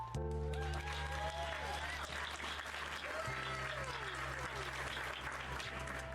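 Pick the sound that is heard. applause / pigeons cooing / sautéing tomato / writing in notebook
applause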